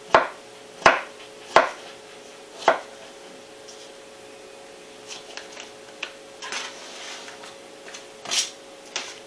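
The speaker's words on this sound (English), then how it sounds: "I only cut half the potato. Let's dice up the other half." A knife dicing a raw potato on a cutting board, four crisp separate chops near the start, then softer scattered cuts and light knocks, close and clear with no talking.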